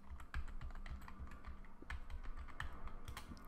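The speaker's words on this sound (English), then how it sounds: "you're going to type in your new password" Someone types a new password on a Mac keyboard in Terminal, producing a quick, uneven run of close, crisp key clicks over a faint background hum.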